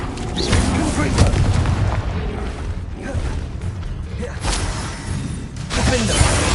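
Confringo blasting spells explode in a Harry Potter Hogwarts video game, with loud booming blasts over a dense, continuous rumble of battle noise. The strongest bursts land near the start and end.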